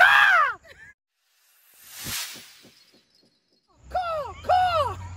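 A crow caws twice, close and clear, at the start and again near the end. Between the calls come a soft rustling whoosh and a few faint clicks.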